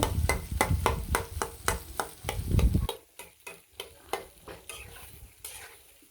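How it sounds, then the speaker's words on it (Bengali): Spice masala and chickpeas are fried and stirred in a pan: a spatula scrapes and clanks in a steady rhythm over loud sizzling, then the frying drops away and the clacks continue more sparsely. "দিয়ে মশলাটা খুব সুন্দরভাবে কষিয়ে নেব কষিয়ে নেওয়ার পর কিন্তু এবারে বুটগুলো খুব সুন্দরভাবে দিয়ে দিব"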